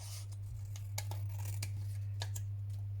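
Scissors snip through the black edge of a photograph album in a handful of quick, separate cuts over a steady low hum, close by and with no talking.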